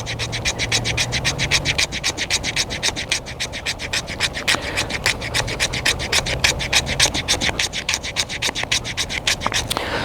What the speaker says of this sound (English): But I'll try a little scraping with this spine because it's not super sharp